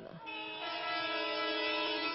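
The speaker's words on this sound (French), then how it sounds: "Depuis 10 h ce matin, concert ininterrompu de klaxons." Car horns blare in the streets of Calais in a celebration, with one sustained, harmonically rich honk holding steady and loud for several seconds.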